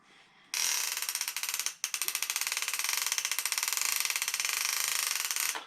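A loud, rapid clicking fishing reel clicker ratchet buzzes steadily after a brief start, pausing once before resuming its fast mechanical rattle, close by.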